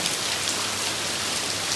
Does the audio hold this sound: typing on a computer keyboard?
no